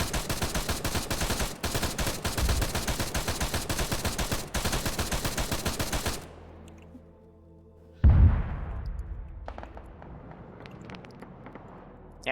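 Arma 3 12.7 mm machine gun firing in long rapid bursts of loud, dense, evenly spaced shots that stop abruptly, followed by a quieter pause and then a single heavy boom with a decaying rumble.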